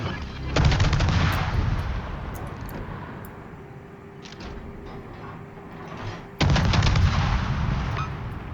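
Heavy naval guns fire in the World of Warships game, with two loud booming salvos, one near the start and one later, separated by a lower rumbling stretch and brief mechanical clanks.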